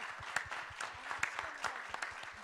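Scattered audience clapping at an energy summit in the District of Columbia, soft and somewhat distant, with uneven claps spread across the moment and no talking over it.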